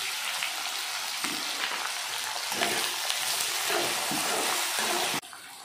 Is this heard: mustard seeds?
yes